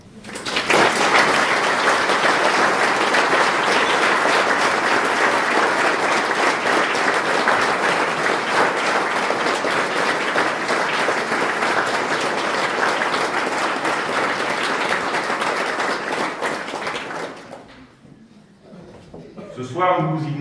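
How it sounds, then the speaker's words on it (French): A ceremony audience at a New Year's greetings event in Cesson applauds police and rescue services: sustained, dense clapping that holds steady for most of the stretch, then stops abruptly, leaving near silence before a voice resumes. "je vous propose de les applaudir"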